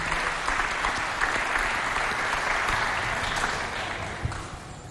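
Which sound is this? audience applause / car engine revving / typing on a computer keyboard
audience applause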